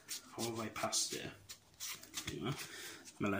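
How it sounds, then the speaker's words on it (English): Cards from a Yu-Gi-Oh deck being shuffled during a tournament match, a run of papery riffling and rubbing bursts close up, with brief pauses between them. "Now I've got to shuffle the deck."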